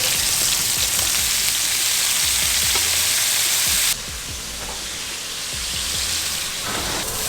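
Fish sizzles loudly in a hot pan just after being flipped, a dense continuous frying hiss close up that drops slightly partway through and carries on steadily, with faint spatters and no voices.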